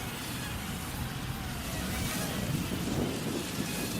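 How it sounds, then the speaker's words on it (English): Wind blows outdoors in a constant, soft rushing hiss that swells slightly midway, with no clear voices. "Oh, getting some wind."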